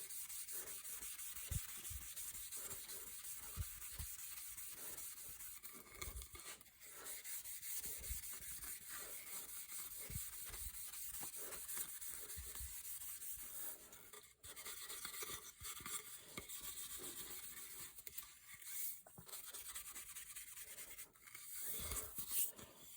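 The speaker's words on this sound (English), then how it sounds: "just burnish off the excess." A wooden gun stock has excess finish burnished off with quiet, continuous rubbing and scrubbing strokes, faint and close, with a few sharper scrapes and no talk.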